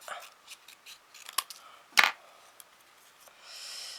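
Scissors snip through a small paper doily in a few short, crisp cuts up close, with one louder sharp snip and some light rustling of paper.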